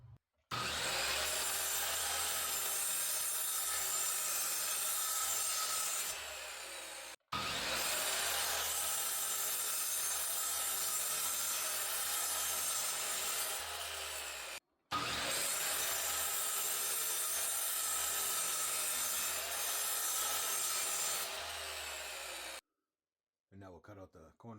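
Scrap 2x4 wood being cut into ghost shapes on a bandsaw, three long continuous sawing passes of about seven seconds each, separated by brief pauses, loud and close.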